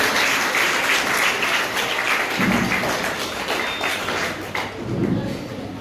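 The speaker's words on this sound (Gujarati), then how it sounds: "જોરદાર તાળીઓ બજાવો" Applause from parents in the audience at a school parent meeting: steady clapping at moderate distance that carries on throughout with a few louder thumps, and no talk over it.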